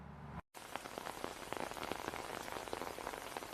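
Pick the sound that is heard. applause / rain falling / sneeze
rain falling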